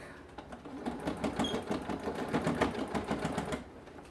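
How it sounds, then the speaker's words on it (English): A sewing machine stitches a seam along the top edge of a crossbody bag, running in a fast, even mechanical chatter at close range for a few seconds before stopping. "I'm just going to run a seam close to the edge right on the top of this bag"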